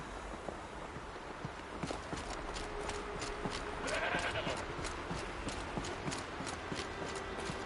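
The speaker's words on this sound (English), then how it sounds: "There's a goat." A goat in a PS4 video game gives a short bleat midway, over steady clip-clopping hoof or footstep sounds and ambient game noise at moderate level.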